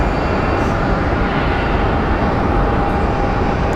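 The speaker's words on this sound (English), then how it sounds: "then we're gonna get that CRJ crossing runway 26" A CRJ airliner crossing runway 26 at Phoenix Sky Harbor Airport, heard as a steady, loud broadband jet engine roar that holds level throughout with no talk.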